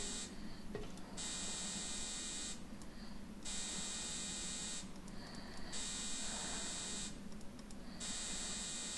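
A harsh electric buzzer in the game Phobos 1953 sounds in repeated long bursts of about a second each, separated by short gaps, loud and grating against a low hum.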